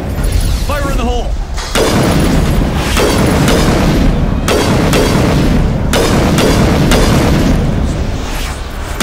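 Explosive detonation booms, several loud sharp blasts in quick succession with rumbling tails, close and dominant, following an earlier stretch of voices and ambient noise.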